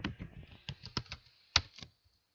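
Quick burst of keystrokes on a computer keyboard, several close light clicks in an uneven rhythm ending in a firmer tap, then silence.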